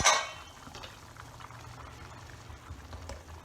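Avare beans cook in a pot of boiling water, a soft steady bubbling and simmer after a brief clink at the start, close and quiet, no voices.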